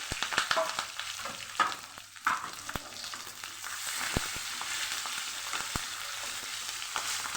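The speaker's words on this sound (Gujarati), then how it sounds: "ગેસ ધીમો કરી અને મરચાંને એકદમ સરસ સાતળી લઈશું" Green chillies crackle and sizzle in hot oil with asafoetida, with sharp pops and occasional stirring scrapes over a low steady hiss.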